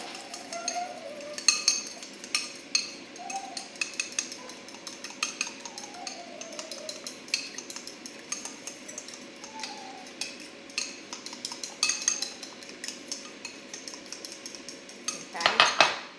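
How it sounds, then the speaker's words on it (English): A fork clinks and scrapes against a bowl while eggs are whisked for an air-fryer breakfast, the light metallic ticks coming in quick uneven bursts, close and fairly faint, with a sharper rattle near the end. "I'm going to take a fork and just kind of whisk it all together"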